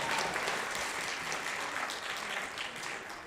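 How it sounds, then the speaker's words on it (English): A concert audience gives a round of applause for a conductor, a dense, sustained crowd clapping that stays fairly loud and even before tapering slightly at the end. "Let's have one more round of applause for Mr. Mango coming up here and conducting"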